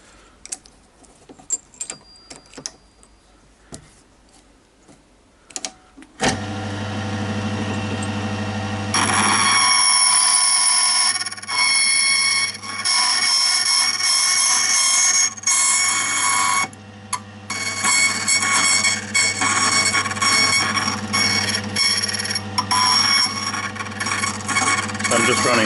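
A key cutting machine cutting a standard Wigco cylinder key, starting with scattered handling clicks, then a loud steady grinding whine from the cutter that continues with brief breaks as it runs over the key repeatedly.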